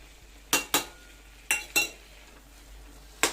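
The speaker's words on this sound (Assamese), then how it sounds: "যেতিয়ালৈকে হালৱাখিনি ঘিউটো এৰি নিদিয়ে কেৰাহীত তেতিয়ালৈকে ভাজি থাকিব লাগিব হালৱাখিনি" Grated carrot halwa is stirred in ghee in a kadai, with a few sharp spatula scrapes and clinks against the pan coming in irregular pairs over a soft, quiet sizzle.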